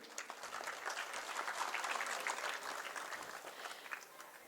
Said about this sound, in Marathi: या मामांसाठी एकदा जोरदार टाळी वाजवा.